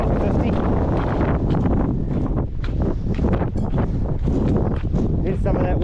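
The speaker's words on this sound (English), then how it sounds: "Here's some of that wind we had." Strong wind buffets the microphone on a volcano hiking trail on the Round the Mountain Track, a loud continuous roaring rumble with gusty surges and rustling, and a voice breaks in briefly.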